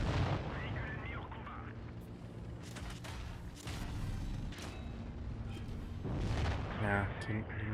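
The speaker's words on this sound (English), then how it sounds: "Put in a big explosion." Tank cannon blasts and explosions from World of Tanks Blitz burst out in a noisy battle mix, several heavy booms spread across the stretch amid continuous game rumble and some talk.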